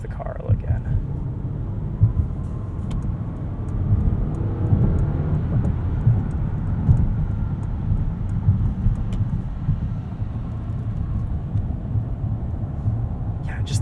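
A 2021 Mercedes-Benz S580 4MATIC cruises at night, its low road and engine rumble steady inside the cabin, with a few clicks scattered over it.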